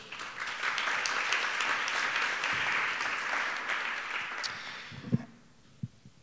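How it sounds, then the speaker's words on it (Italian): Audience applause at a music business conference panel on a rock festival, a steady wash of clapping from a seated crowd that fades out over about five seconds, followed by a couple of isolated handling thumps. "Un applauso."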